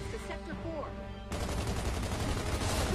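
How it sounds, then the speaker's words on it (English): Gunfire in the Gears of War 2 video game erupts as rapid automatic bursts, starting abruptly after a moment of quieter game sound and continuing loud and dense to the end. "Oh, that is a gun."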